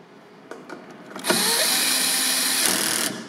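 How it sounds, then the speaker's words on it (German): A bolt is tightened with a long socket on an extension while a seat box is fitted to a Hawk electric scooter; a few light clicks lead into a steady, loud whirring power-tool run of nearly two seconds that then stops abruptly. "Ich nehme hier eine lange Nuss mit einer Verlängerung."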